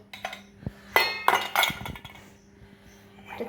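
Washed dishes and cups clink sharply as they are set upside down to drain, several bright irregular knocks of ceramic and metal close by, with quiet gaps between.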